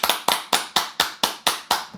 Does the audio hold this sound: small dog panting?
no